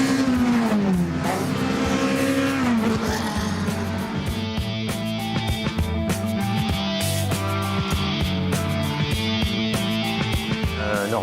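Race cars roar around a track, engines revving and shifting pitch as they pass, loud and continuous with overlapping motor drones and a brief squeal.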